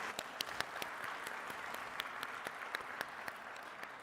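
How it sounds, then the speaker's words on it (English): Sustained applause from an audience at a mining investment summit plenary session, a steady dense wash of many hands clapping with a few sharper individual claps standing out, continuing evenly throughout. "Let's give Andrea one more round of applause."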